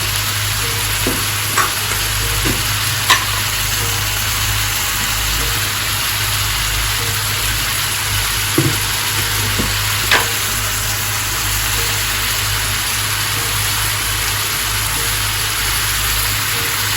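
Spice paste for dried fish bhuna fries in a pan with a continuous soft sizzle, broken by a few sharp scrapes and taps of a stirring spoon; no one speaks.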